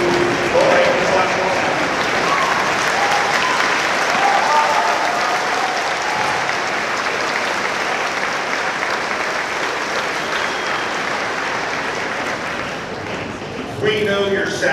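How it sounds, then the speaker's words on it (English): Parents and guardians in the audience at a class of 2025 commencement clapping, a dense, loud, sustained round of applause filling the hall, easing slightly toward the end before a voice returns. "Go ahead and clap."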